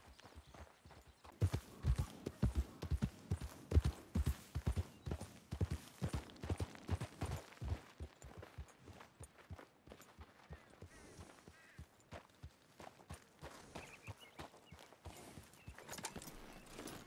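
Horse hooves clip-clop steadily on the ground in Red Dead Redemption 2, with a fast, even trot that is loud at first and eases into a slower, fainter walk, alone with no talk.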